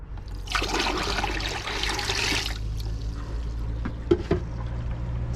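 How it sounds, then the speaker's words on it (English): Water pours through a garden hose into a gray water storage tank in a Sprinter van build, a steady broadband rush for about two and a half seconds, then a quieter trickle with a couple of faint knocks. "Let's pour the rest of this water in."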